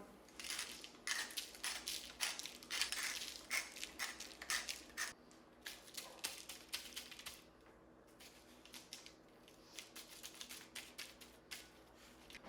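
A pepper mill cracks peppercorns onto seasoned, oiled veal chops: a long run of gritty, crunchy grinding bursts, close and fairly loud at first, then lighter and more sparse, with no talking.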